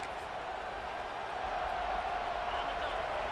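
Home crowd roar in a college football video game, Miami Hurricanes against Florida State, rising on third down as the defense tries to get off the field; a steady, dense wall of crowd noise fills the stadium without pause.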